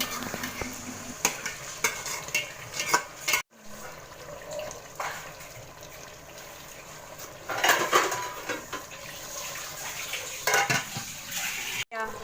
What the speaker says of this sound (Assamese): ইয়াতে মাংসখিনি ভালদৰে ভাজি ল'ব পিঁয়াজৰ লগত